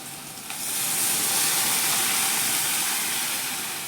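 Water being added to a simple brinjal and potato curry in a pan, a steady broadband hiss and sizzle that swells after a half-second and holds loud and close with no talk over it.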